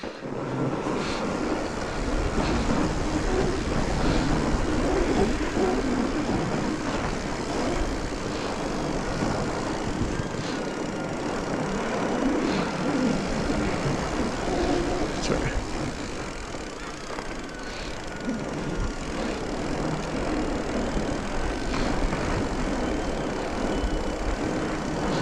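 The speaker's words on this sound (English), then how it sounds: "the drone's still following me because I can hear it" Drone buzzing overhead and following along, a steady droning hum that persists throughout with wind noise, no clear pauses.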